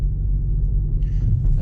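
Ford Fiesta ST MK8 on the move, a steady low engine and road rumble with a brief rise in higher-pitched noise near the end, no distinct shift clunk standing out.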